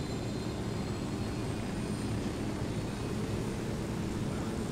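A helicopter flies in the video game Ghost Recon Wildlands, a constant, dense engine and rotor drone that holds at one level throughout with no speech.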